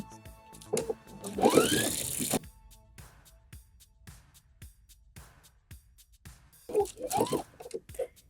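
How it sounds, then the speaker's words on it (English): A sewing machine whirs in short bursts while back stitching a seam on fabric for wide-leg pants, its motor winding up and slowing twice with quiet pauses between. "Don't forget to back stitch."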